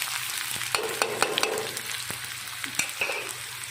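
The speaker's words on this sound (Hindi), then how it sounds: "अब प्याज को भून लेते हैं ब्राउन होने तक।" Onions sizzle steadily in a hot pan after browned garlic, with the scrape and clatter of stirring cutting through the frying hiss, close up and with no talking.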